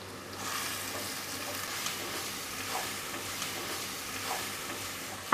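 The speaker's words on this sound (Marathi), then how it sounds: "हे सगळे मसाले आहेत ना ते आपल्याला परतून घ्यायचे आहेत।" Turmeric and homemade garam masala sauté in a pan for rajma, giving a soft, steady sizzle with faint stirring scrapes throughout.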